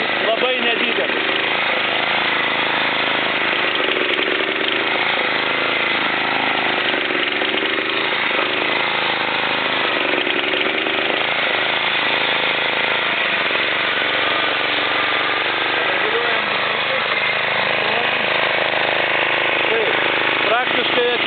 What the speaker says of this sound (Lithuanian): jaučiasi, kaip nestabiliai dirba variklis